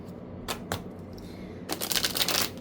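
A Fallout Tarot deck being shuffled: two quick soft card slaps, then a longer crisp riffling burst near the end, heard close up over a low background hum.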